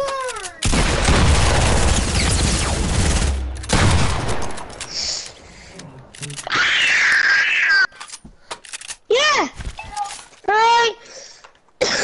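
SMG fire in a video game, loud dense bursts of rapid shots that start and stop, mixed with booms and shattering. Speech-like chirps and warbles come through between the bursts.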